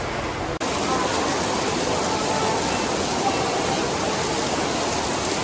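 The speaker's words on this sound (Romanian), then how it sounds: "Ploaie torențială, nu glumă," Torrential rain pours down in a cloudburst over Ljubljana, a dense, steady hiss that holds loud and unbroken from start to end, briefly interrupted by a click just after the opening.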